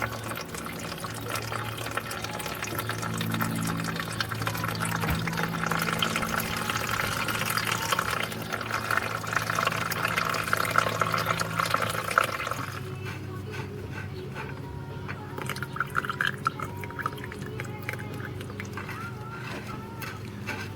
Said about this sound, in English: just pull a drain plug on the transmission, see if there's any water down the bottom, and drain that off